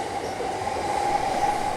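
Train at a busy Tokyo station platform, a steady, loud rumble with a sustained squeal from the wheels or brakes, carrying on without a break through the whole moment with no voices heard.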